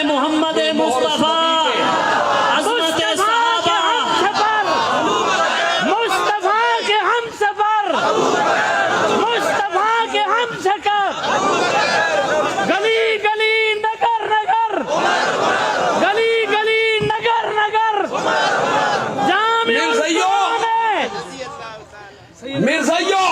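A large crowd at a religious gathering roars slogans in unison, loud, chanted phrases answering a call, repeating in waves with brief dips between, echoing through an amplified outdoor space.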